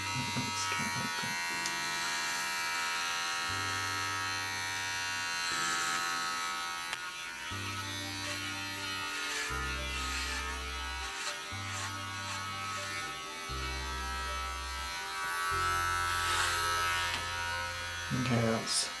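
Electric clippers buzz steadily and loudly up close while shaving a head for charity, the hum shifting in pitch as it moves through hair, with talking over it.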